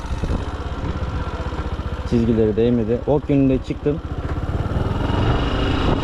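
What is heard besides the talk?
motorcycle engine in second gear during licence test course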